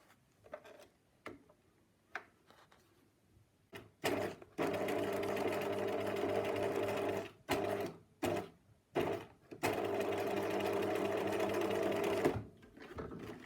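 Sewing machine stitching a corset boning casing, with soft clicks and handling, then bursts of rapid stitching, a long steady run interrupted by short stops and restarts.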